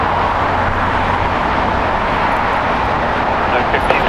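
A JetBlue Airways jet in Boston Bruins livery at LAX, a steady, loud, broadband engine roar without breaks, close and constant, with a voice talking over it.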